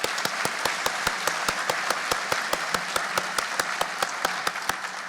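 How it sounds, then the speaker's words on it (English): An audience applauds commendation recipients at a 2022 sheriff's office award ceremony for deputies, a full round of clapping with a sharp, steady rhythmic beat running through the continuous wash of many hands. "Another round of applause for the commendation recipients."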